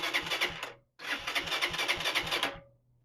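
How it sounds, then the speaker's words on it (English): A Lifan City X 125 motorbike, left unused for years and now fitted with a new battery, cranks on its starter without firing. There are two rhythmic churning bursts close by, separated by a short pause. "Replacing the battery yielded a nice headlight and a bike that sounds like she wants to start."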